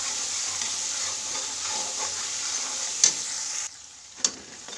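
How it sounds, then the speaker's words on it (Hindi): Masala frying in oil in a pan, a steady close hiss of sizzling with a couple of sharp spatula clicks, the sizzle cutting off near the end before a final scrape. "उसके बाद हम डाल देंगे इसके अंदर ये हमारा जो मसाला है, बस इसको हम ज़्यादा नहीं, बस 1 से 2 मिनट हमें अच्छे से पका लेना है इसको।"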